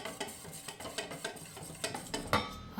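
Sapin-sapin batter is mixed by hand in a bowl, with soft rhythmic sloshing and light clinks of a utensil against the bowl, quiet and close.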